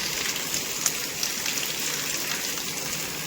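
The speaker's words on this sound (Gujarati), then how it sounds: "વરસાદી હે જરાય બ્રેક જ નથી લીધી કન્ટિન્યુ એક ધારો પડે" Monsoon rain falls steadily in a Gujarat village in a constant bright hiss, a few louder drops ticking through the even wash.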